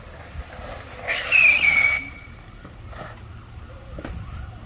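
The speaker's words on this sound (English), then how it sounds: "Just spins the tires." An electric scooter's wheel spinning its tire, a sudden loud screeching whine that lasts about a second before dropping back to a low background rumble.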